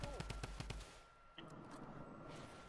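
Rapid bursts of gunfire from Fortnite sound close at first, then give way to a fainter, noisier stretch with a few scattered pops. Quiet voices may sit underneath.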